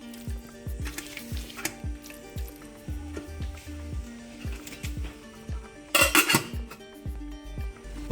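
Marinated chicken pieces scooped into a vessel and covered, with repeated soft clinks and scrapes of utensil against metal, a wet squish, and a brief louder clatter near the end.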